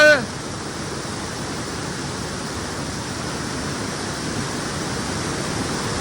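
Hidlumane Falls waterfall roaring in a steady, unbroken wash of broadband rushing water, close and loud throughout after a brief sharp onset.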